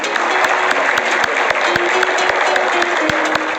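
Lively applause from an audience at a Hindi-Urdu comic poetry gathering, welcoming a guest, with brisk, dense clapping, a few sharp individual claps standing out, and faint tonal hum underneath.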